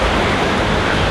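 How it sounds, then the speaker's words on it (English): Rain pours down at a beach full of monkeys, a steady, dense hiss of falling water with no breaks, loud and even throughout. "I feel like the monkeys just summoned the rain"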